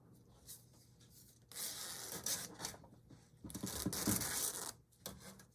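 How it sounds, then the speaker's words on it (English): A sticky 12-inch zipper is pulled open and closed twice, each pass a rough, close rasping burst with quiet pauses between. "I like to unzip it and zip it just to make sure it works, and this one is a wee bit sticky."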